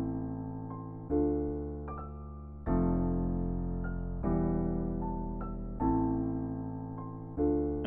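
A synth-style ambient melody pitched up an octave and played at halftime in FL Studio sounds alone, with slow sustained chords changing every second or two.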